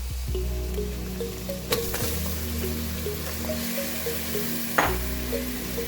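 Mutton lungs and heart sizzle steadily in a pan as they roast with cumin, a constant frying hiss with small crackles and a couple of sharper pops, no voices.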